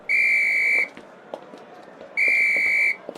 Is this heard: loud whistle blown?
yes